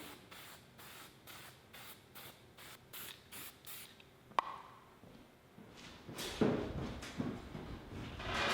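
Spray paint hissing in repeated short bursts, then a longer steady spray, as coats go onto toolbox organizer parts hung from a hoist; a single metallic ping sounds midway.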